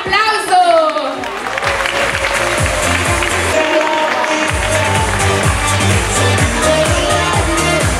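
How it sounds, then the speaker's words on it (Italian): An audience at the Sanremino 2015 song contest in Maggianico applauds, a loud, sustained wash of clapping and crowd noise over the whole stretch, with music starting up beneath it. "Un applauso!"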